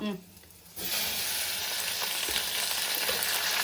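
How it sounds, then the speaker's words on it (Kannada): Byadagi dried chillies and tomato fry in a pan, a loud steady sizzle that bursts in after a quiet start and holds evenly to the end, with faint stirring beneath. "ಇವೆಲ್ಲ ಫ್ರೈ ಮಾಡ್ಕೋಬೇಕು."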